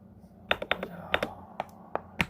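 Computer keyboard keys tapped in short irregular bursts while typing a name in Photoshop, close and crisp against a quiet room, with brief pauses between clusters of keystrokes.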